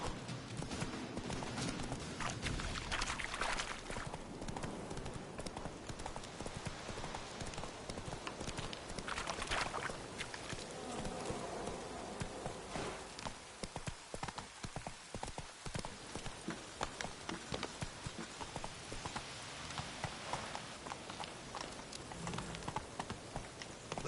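Hooves of Roach, the horse in The Witcher 3 video game, clip-clop at a steady gallop close up throughout, with a busy game soundscape and faint rain-like patter underneath.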